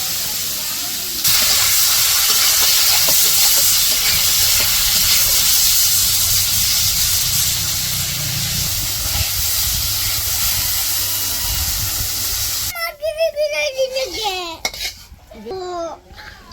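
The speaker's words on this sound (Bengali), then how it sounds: "ওই যে কড়াই তেল দিয়ে দিছে, প্রথমে দিচ্ছে মাছগুলা ভাজি করব" Fish frying in hot oil in a wok makes a loud, continuous hissing sizzle with occasional utensil clinks. It cuts off abruptly near the end, leaving chirpy high-pitched sounds and faint voices.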